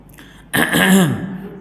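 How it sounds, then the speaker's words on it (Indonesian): A single drawn-out throat clearing, loud and close, by a muezzin before the call to prayer, following a brief moment of quiet. "sebelum adzan berdehem"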